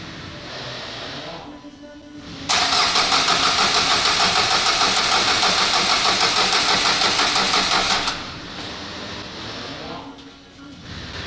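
A Renault Kangoo 1.5 dCi diesel engine cranks for about six seconds with a loud, steady rhythmic whir, then drops back to a low mechanical rumble, close up.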